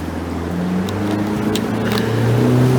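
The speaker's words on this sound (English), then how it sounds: "I think you better turn the engine on." A chartered boat's engine starts on a trip around Mull, Kerrera and Oban, rising from a low rumble into a steady, close motor drone that builds in loudness over a few seconds.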